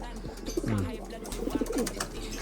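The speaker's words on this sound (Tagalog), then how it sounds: "Ganyan magalit ang kalapati kong si Coco mga kalapatids." An angry racing pigeon gives a few throaty, rolling coos up close, fairly soft over a low steady hum.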